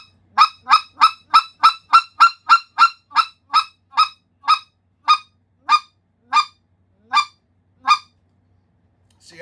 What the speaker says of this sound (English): Run a cluck string up and bring it down.